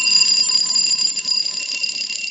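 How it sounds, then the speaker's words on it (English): A fire alarm test blares through a council cabinet meeting room, a loud, continuous, shrill electronic tone holding steady with slight pulsing and no voices over it. "That's the fire alarm, which is a test, by the way, I think."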